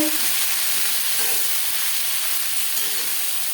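Onions and tomatoes fry in oil in a large kadai with a bay leaf, a dense, continuous loud sizzle and hiss with no pauses.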